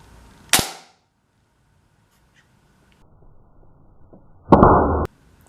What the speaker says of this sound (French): Je vais vous montrer un tir à peu près à 2 mètres sur une surface vitrée